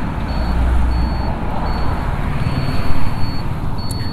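Passing road traffic heard from a Bajaj Chetak electric scooter waiting at a U-turn, a broad rumble of vehicle engines rising and falling nearby, with a steady high electronic beep repeating at intervals.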